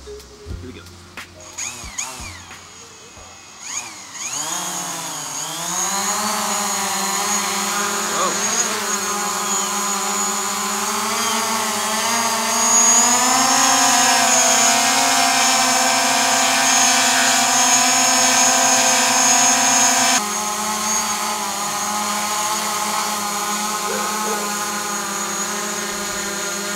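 A DJI Mavic Pro drone lifting a weight, with its downward-facing sensors turned off, spins up from rattling handling noises into a loud, sustained propeller whine that rises in pitch at takeoff and holds a steady buzzing hover, no talking.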